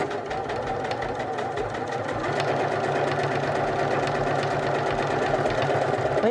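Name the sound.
sewing machine stitching a buttonhole automatically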